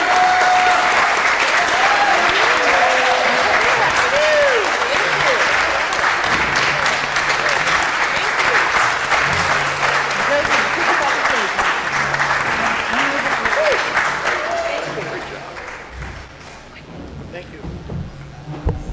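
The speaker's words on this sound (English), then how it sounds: "Please join me with a round of applause." Loud, sustained audience applause fills a room at a Rotary Thursday lunch meeting, a dense wash of clapping that runs steadily for most of the stretch before tapering off near the end.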